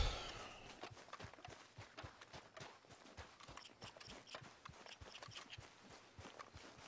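Horse hooves clip-clop at a steady walking pace in Red Dead Redemption 2, crisp repeated hoofbeats close by with faint background ambience and no talking.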